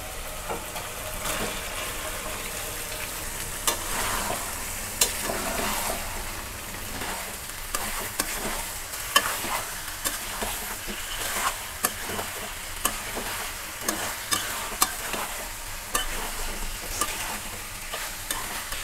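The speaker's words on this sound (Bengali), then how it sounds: "মশলার সাথে মাংসটা এভাবে নেড়ে নেড়ে ভালো মতো কষিয়ে নেব" Chicken and potatoes fry in spice masala as they are stirred over and over, a continuous close sizzle with frequent spatula knocks and scrapes, busier toward the end, no voices.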